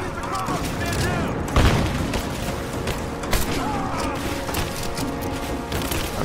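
Gunfire from a gun in Rise of the Tomb Raider: repeated close, punchy shots and booms amid busy game noise, with a few heavier impacts standing out and a voice briefly under the action.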